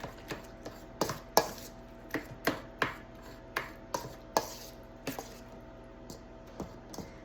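Roasted garlic being mashed into baigan choka, a series of soft, irregular squishing and tapping strokes, close and quiet with no talking.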